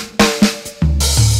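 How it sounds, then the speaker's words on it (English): A sampled 1970s-style acoustic drum kit from a Native Instruments Abbey Road library plays a short dry pattern: a few tom and snare hits, then a kick and crashing cymbal ringing out together. "I've loaded the Native Instruments Abbey Road 70s kit, which sounds like this."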